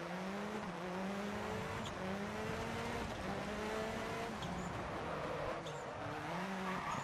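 A rally car slides through a rallycross event in the Dirt Rally video game, its engine revving in repeated rising sweeps between gear changes, with tire scrub and a fairly faint, steady mix.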